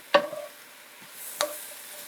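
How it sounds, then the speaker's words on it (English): Mushrooms stirred in a hot pan, two brief scraping clinks of a utensil over a faint steady sizzle, fairly quiet and close. "we're going to stir the mushrooms"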